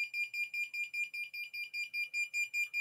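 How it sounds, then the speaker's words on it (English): Buzzer of a flame-sensor fire alarm system beeping in a fast, steady pulse, about five short shrill tones per second, loud and clear with nothing else audible. "whenever the flame sensor is finding the flame, the buzzer will start making the sound"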